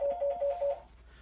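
A telephone rings close by in a rapid warbling electronic pattern of short repeated pulses that stop after under a second.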